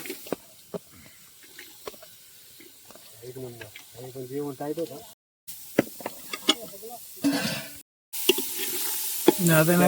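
Onion sautés in a pan over a wood-fired stove, giving soft intermittent sizzling and stirring scrapes while a person talks throughout.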